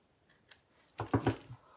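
Scissors snipping the corners off a small hand-cut fabric square, a few quick close snips in a short rhythmic burst after a near-silent pause, no talking.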